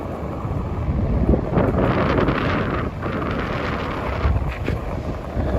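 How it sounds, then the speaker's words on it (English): Strong wind buffets the microphone on a street in Midtown Manhattan, New York City, at night, a steady low roar with gusty surges throughout and no voices. "Pretty windy night"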